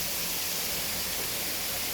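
A waterfall running into a pool in a cave setting gives a steady, dense rush of hiss that stays even throughout, with no voices.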